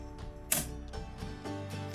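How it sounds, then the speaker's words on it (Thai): A circuit breaker switched off before fitting a power meter to a home inverter air conditioner: one sharp, close mechanical click amid faint rattling, quiet and without talking. "ปิดเบรกเกอร์แล้วนะครับ"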